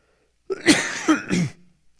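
Three quick, harsh coughs in a row from a pollen allergy, close and fairly loud, followed by silence.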